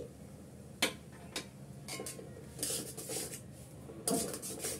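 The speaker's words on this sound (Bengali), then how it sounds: "নারিকেল কোড়াটা ভালো করে একটু নেড়ে চেড়ে মিক্স করে নেব" Grated coconut is stirred into a sticky date laddu mixture in a pan: soft scraping and rubbing with a few sharper clinks of a spoon against metal, close and without speech.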